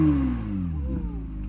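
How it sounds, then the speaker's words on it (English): Rebuilt Porsche GT3, previously wrecked, its engine note falling away after a rev, a loud, close, deep tone gliding downward over about a second and a half. "Give it a rev, go on."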